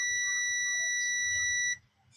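A multimeter's continuity buzzer sounding on a shorted diode in a TCL 50P727 TV, one steady high electronic tone held continuously, then cutting off abruptly.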